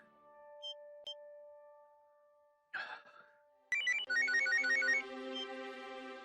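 A phone ringtone plays a repeating electronic melody that starts abruptly after a few faint beeps and a brief rustle, continuing loud and steady with no talk over it.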